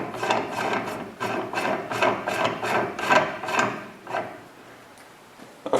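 A long nut tack-welded to a rod end on a homemade knife sharpener is screwed on by hand, giving about a dozen close, rhythmic rasping scrapes that end in a quiet pause.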